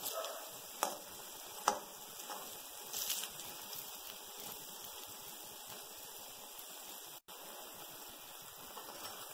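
Faint, steady sizzling of honey candy batter dropped into hot oil, a soft continuous crackle with a few small pops and no talking.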